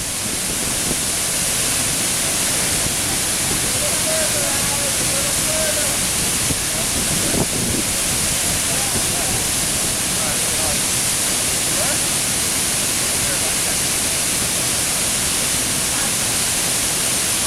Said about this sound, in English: Waterfall in Thailand.